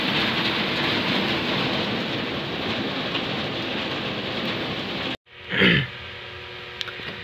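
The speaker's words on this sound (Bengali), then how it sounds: "বৃষ্টি তো মানে কি বলবো, সেই রকম বৃষ্টি হচ্ছে" Heavy rain pours steadily in Bangladesh as a loud, dense hiss that stops abruptly near the end, followed by a short louder burst of noise.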